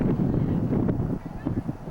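Wind on a gusty day buffets a camera microphone outdoors, making a dense low rumble that swells and dips throughout, with possible muffled voice sounds mixed in.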